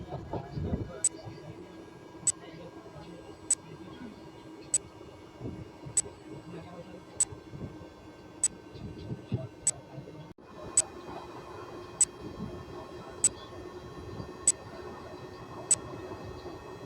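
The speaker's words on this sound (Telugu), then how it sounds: "కాచిగూడ నాగర్సోల్ ప్యాసింజర్ అండి ఇది." The Kacheguda–Nagarsol passenger train rolls along with a low, steady rumble, while sharp, evenly spaced metallic clicks repeat about every second and a quarter, like rail joints or a ticking signal, staying faint and distant overall.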